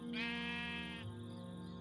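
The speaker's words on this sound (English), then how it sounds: "Okay, so here's some sheep." Sheep in Minecraft with the MC Eternal modpack bleating once, a single wavering nasal call lasting about a second, close and clear over a steady game background.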